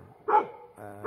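A small female dog at a neighborhood posada Mass in the Guadalupe barrio gives two short, sharp yapping barks, close by and fairly clear against quiet surroundings.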